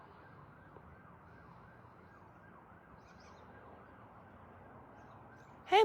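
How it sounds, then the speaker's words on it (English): Faint, distant emergency sirens wail steadily in the background, ending with a sudden loud clatter nearby. "Oh, I hear sirens."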